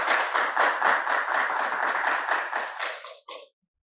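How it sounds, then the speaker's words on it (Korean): Attendees at a seminar on the global impact of COVID-19 break into steady, close applause that runs for about three seconds, then tapers into a few scattered claps before silence. "크게 박수 한번 부탁드립니다"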